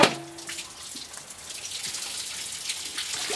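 Tap water runs steadily into a sink while food is rinsed, a continuous close splashing wash with no talk over it.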